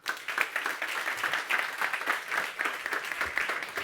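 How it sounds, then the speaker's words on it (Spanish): An audience applauds author Arantxa Lozano at a book presentation in Madrid, with dense, steady clapping that holds at an even level throughout. "Os pido un aplauso para Arantxa Lozano."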